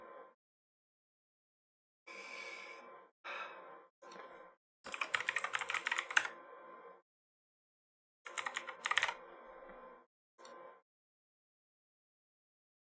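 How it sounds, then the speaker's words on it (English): A computer keyboard is typed on in bursts of rapid clicking keystrokes, close and fairly clear, separated by short silent pauses, with no talking. "I apologize for the keyboard noises."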